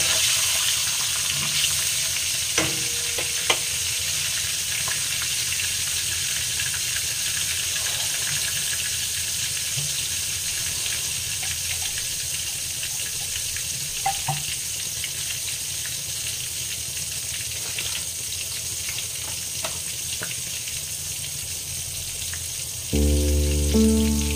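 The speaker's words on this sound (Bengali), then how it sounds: "মাংসের সেই ভাজার আওয়াজ আর খুব সুন্দর ভাজার একটা শব্দ" Potatoes and chicken meat frying in a pan, a steady, soft hiss of oil with a faint watery crackle and occasional small pops, continuing evenly for a long stretch before a low clatter at the end.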